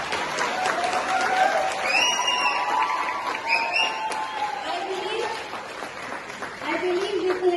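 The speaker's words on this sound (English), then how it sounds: "A big round of applause." Workshop audience claps in a steady mid-level round of applause, mixed with crowd chatter and a few cheers throughout.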